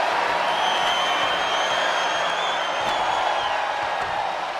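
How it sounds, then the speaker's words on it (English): Wrestling arena crowd in WWE 2K24 during a ladder match, a steady, loud wash of cheering and crowd roar with scattered whistles and whoops, continuous and enveloping for the whole stretch. "What a raucous crowd here tonight"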